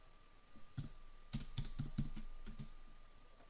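Keys clatter on a computer keyboard in a quiet room, a short burst of uneven taps and clicks, some louder strokes standing out over a faint steady hum.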